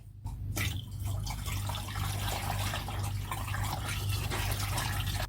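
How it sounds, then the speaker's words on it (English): Homemade red ivory mango wine liquid poured into a fermentation tank, a close, loud continuous gushing and splashing stream that starts abruptly and keeps flowing steadily. "Here, we pour the fermentation liquid into the fermentation tank."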